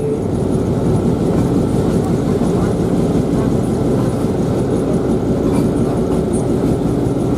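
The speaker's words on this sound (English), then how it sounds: "Oh, that's the wheel. This is wheel slip." A heavy, steady grinding roar of Wabash 1189 locomotive wheels slipping on the rail, heard from the cab, loud and close, holding without a break.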